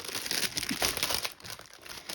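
Tissue paper crinkles and rustles continuously as it is handled up close, a bright papery crackle that swells and eases over about two seconds.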